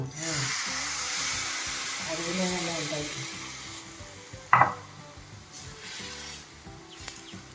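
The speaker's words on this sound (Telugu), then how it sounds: "చింతపండు పులుసు వేసేస్తున్నాను" Tamarind juice poured into a pan of ginger curry with onion and ginger paste gives a sudden sharp hiss of sizzling partway through, set against a softer background sizzle while a person talks.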